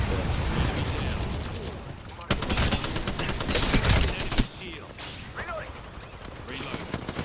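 A cluster shot fired in Apex Legends: a dense rattle of rapid, crackling explosions that swells for a couple of seconds amid ongoing battle noise, with a voice talking over parts of it.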